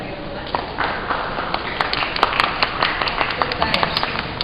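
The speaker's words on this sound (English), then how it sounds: "would you please give applause to Bapak Rahadi Ramulan?" Audience applause at an event in Indonesia, scattered sharp claps building into a dense patter across the clip, with voices heard over it.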